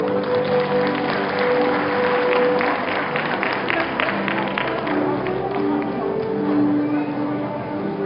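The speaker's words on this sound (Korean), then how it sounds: "큰 박수 부탁드리겠습니다." A large audience at a university graduation ceremony in Seoul claps steadily, a dense continuous wash of applause that holds at an even level throughout.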